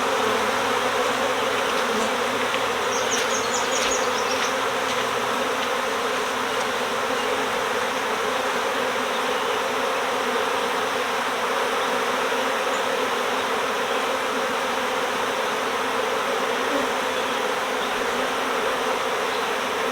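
A dense, continuous buzz of many honeybees fills the air as frames are shaken out of a hive box, loud and close throughout with no speech.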